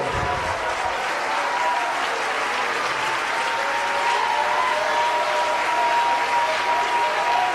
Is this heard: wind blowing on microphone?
no